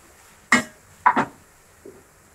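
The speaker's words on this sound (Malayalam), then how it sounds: "നന്നായി ഇളക്കാം" Clinks of a spoon against a pan while cabbage, carrot, capsicum and spring onion momo filling is stirred, three separate metallic knocks spaced about half a second apart, the last one faint, in a quiet kitchen.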